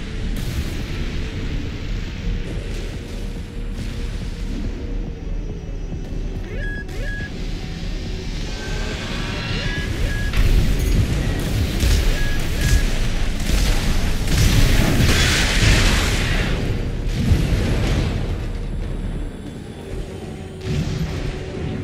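Heavy booming missile explosions and combat noise from the mech action game Armored Core VI, a continuous dense low rumble with bursts that swell louder midway, with no talking.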